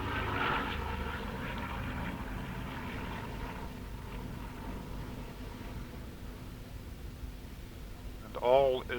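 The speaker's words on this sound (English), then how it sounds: "An aeroplane from Ronaldsway just taking off" An aeroplane taking off from Ronaldsway and passing overhead at Castletown before a 250cc motorcycle race start, a broad propeller drone heard at a distance under a commentator's voice.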